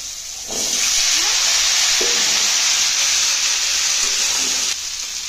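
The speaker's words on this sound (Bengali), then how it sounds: "তেল গরম হয়ে এসেছে, এখন তরকারিটা সম্বার দিয়ে দিব।" Kalonji seeds and fresh vegetable stems drop into hot oil for tempering, setting off a loud, close, steady sizzle with brief stirring sounds that holds for several seconds before easing slightly.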